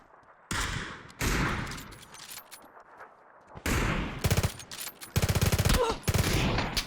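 Repeated bursts of gunfire in the video game PUBG on the Deston map, some from a car, some single cracks and some rapid automatic volleys, loud and fairly close, with short quiet gaps between.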